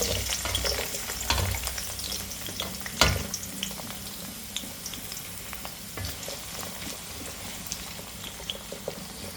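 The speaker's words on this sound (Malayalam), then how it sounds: "നന്നായി എണ്ണയിൽ മുരിഞ്ഞ് വരണം കേട്ടോ ചെറിയുള്ളി." Small shallots frying in hot coconut oil for a Kerala-style beef fry, giving a steady close sizzle and bubbling with a sharper crackling burst near the three-second mark, no voices.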